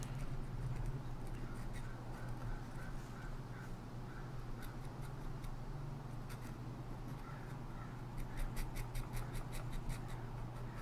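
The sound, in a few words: pen nib drawing marks on paper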